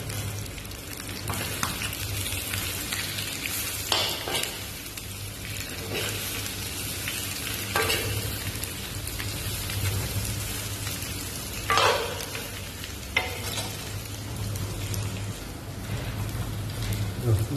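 Onions fry in hot oil in a pan for a mutton curry, giving a steady, close crackling sizzle with occasional louder scraping stirs and pops. No voices are heard.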